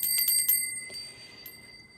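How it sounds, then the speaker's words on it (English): A small bell rings during a livestreamed tarot reading, a quick cluster of bright metallic strikes followed by a couple of softer dings and a sustained ringing tone fading out. "Let me ring the bell to bring in that energy."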